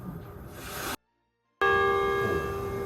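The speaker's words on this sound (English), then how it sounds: "You can hear this bell" A chapel bell near the port of Nagasaki rings out loud and clear after a short break, its tone ringing on and slowly fading with long resonant overtones.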